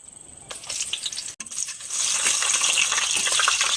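Curry leaves and dried kondattam chillies fry in hot coconut oil, a crackling sizzle that briefly drops out and then swells into a steady, louder hiss with scattered pops.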